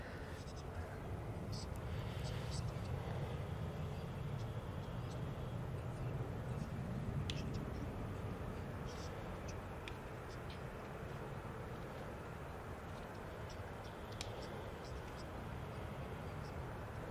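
Airbus A320-200 airliner on short final for runway 05 right at Manchester Airport, a steady low jet roar held at an even level throughout without rising or fading.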